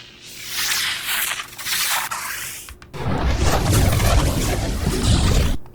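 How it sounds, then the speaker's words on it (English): Synthesized fire crackle built from filtered white noise: a hissing, grainy crackling texture in two sections, the second fuller and louder, each stopping abruptly. "It's one of the fire sounds."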